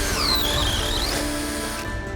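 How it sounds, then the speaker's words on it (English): A regular drill bit bores a small-scale hole, a loud, close whining drill with a squealing pitch that sweeps down and back up before easing off, with no voices over it. "Now this is just a regular drill bit."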